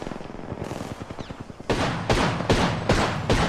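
Rapid video game gunfire in Apex Legends, first a clipped stream of shots under the mix, then heavy close bursts repeating in a steady rhythm, loud and sharp.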